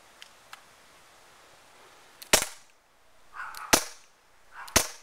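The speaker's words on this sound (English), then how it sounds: "So again, this is now a CO2 gun." A CO2 airsoft pistol fires BBs at a metal plate, three sharp loud cracks spaced about a second apart, after a couple of faint clicks.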